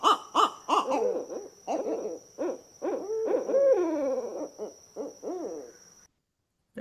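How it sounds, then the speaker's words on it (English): A pair of owls duet, the female's lower hoo notes interleaved with a partner's higher, wavering calls in quick rhythmic series, close and clear against a faint steady hum. "the female is kind of lower pitched with the more typical hoo, hoo, hoo, owl-like sounds"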